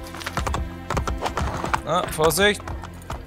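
Horse hooves clop in a quick, uneven rhythm in the video game Assassin's Creed Brotherhood, mixed with game sounds and a voice call, while someone speaks over it.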